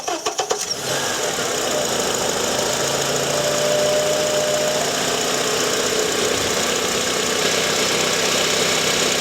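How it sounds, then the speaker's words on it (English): A car engine cranks with a quick run of rhythmic starter turns, catches within a second, then settles into a loud, steady close idle during a starter test with a Topdon AB101 battery tester. "Cranking test. So we'll start the vehicle,"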